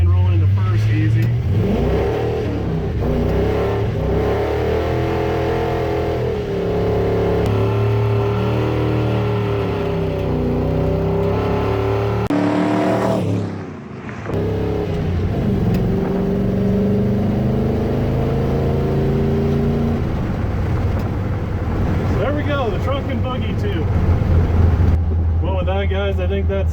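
Ford F-100 pickup with a five-speed swap, a crusty budget build, rolling into first and pulling hard, its engine droning and climbing steadily through the revs for a long stretch, loud and close with a brief dip midway.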